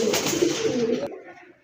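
A large female pigeon, a full-sized hen bird offered for sale, coos in a soft, continuous rolling murmur close by for about a second before it stops, leaving quiet.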